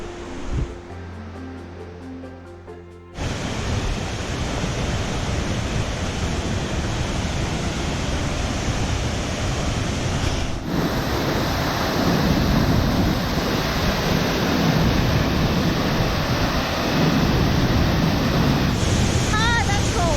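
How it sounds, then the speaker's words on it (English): Fast-running water rushes loudly and continuously nearby, a steady roaring wash that swells slightly partway through, with a brief muffled sound at the start, near a waterfall. "judging by the fast running water beside us"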